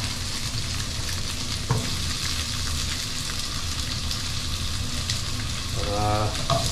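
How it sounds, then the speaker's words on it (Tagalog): Potatoes sautéing in a pan for a tilapia dish, a steady, close sizzle and crackle of frying with occasional stirring scrapes, loud and continuous, with a brief voice near the end. "igigisa muna natin yung ating patatas"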